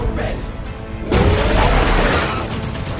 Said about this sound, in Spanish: ¡Estoy a 25 metros de una bomba!